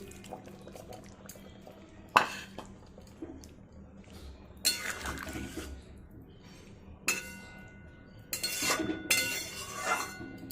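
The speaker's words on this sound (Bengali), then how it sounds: "এবার এখানে আমি ভেজে রাখা পটল আর পনিরটা দিয়ে দেব।" Pieces of fried pointed gourd and paneer dropped into a simmering curry pan, heard as a few separate clattering clinks and soft splashes spaced apart over quiet kitchen background.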